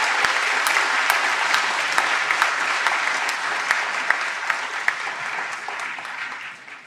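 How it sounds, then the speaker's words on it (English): A graduation audience at Torrens University applauds the success coaches, with steady dense clapping, a few sharper individual claps standing out, gradually tapering off. "can we please give all the success coaches of Torrens University a round of applause?"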